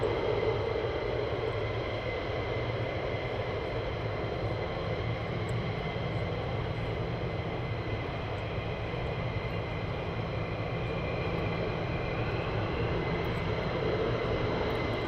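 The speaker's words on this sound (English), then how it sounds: "another aircraft is taxiing down" A military jet taxis at RAF Lakenheath, its engines giving off a loud, continuous roar that holds steady for the whole stretch. No one speaks.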